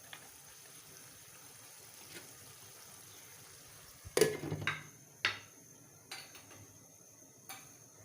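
A pot of liver curry with a small glass of water added simmers on low heat, a faint bubbling hiss, broken by a sharp metallic clank of a lid or utensil and a few lighter taps.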